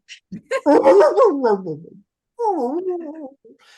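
A person imitates a dog, giving a few barking yips followed by a drawn-out whining whimper, alone and close.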